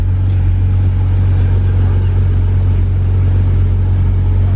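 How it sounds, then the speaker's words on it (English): Porsche GT3 engine idling steadily in a car under rewiring work, a constant low rumble and hum with no change in pace. "So the car's running."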